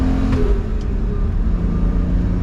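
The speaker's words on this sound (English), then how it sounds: "That right there sounds like an exhaust leak." A BMW E12 with a Euro M90 engine drones steadily while driving, with a rough, raspy low rumble from an exhaust leak throughout and no talking.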